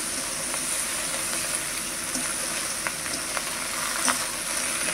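Small river fish frying in a pan with new potatoes, onion stalks, broad beans and eggplant, a steady, close, loud sizzle with light crackles and a few stirring scrapes.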